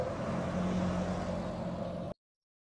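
Car traffic from an engineered audio evidence recording in a Nancy Drew video game: a steady low engine hum with faint road rumble, cutting off abruptly into silence near the end.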